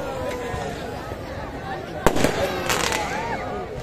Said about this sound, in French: les feux d'artifice sont éclatés